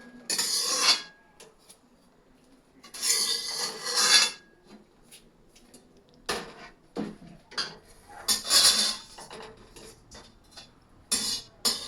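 Semai vermicelli being stirred in a pot with ghee, bursts of scraping and rasping clinks in irregular spurts separated by quiet pauses, close and moderately loud.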